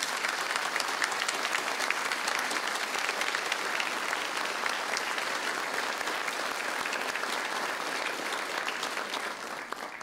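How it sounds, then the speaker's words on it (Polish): An audience at a Polish school concert for the school patron's day claps warmly, with sustained, dense applause that holds steady for several seconds before easing slightly at the end. "Prosimy o wielkie oklaski dla pani Ewy Trochim."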